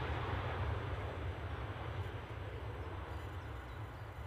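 A Finnair Airbus A350 at Edinburgh airport, heard as a steady, broad jet engine roar with heavy low rumble, fairly distant and holding level before easing slightly, with no talk.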